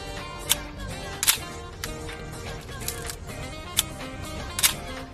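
A Minolta XE film camera's vertical-travel mechanical metal focal-plane shutter firing repeatedly, with sharp crisp clicks at irregular intervals over a steady background hum, close up and without talk.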